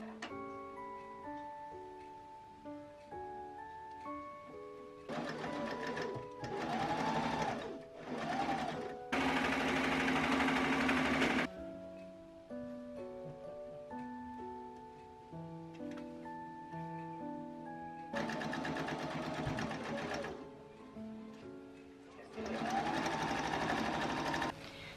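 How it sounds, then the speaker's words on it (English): A sewing machine stitches pockets onto the side seams of a bedsheet bustier dress in several bursts of rapid, rhythmic clatter, separated by pauses, close and clear without speech. "Once we've sewn the pockets on the side seams"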